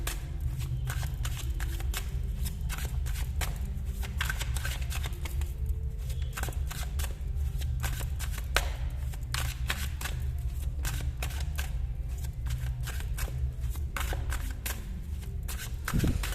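Tarot cards being shuffled by hand to draw three, a steady, close, continuous riffle and patter of card stock running for many seconds with no talk.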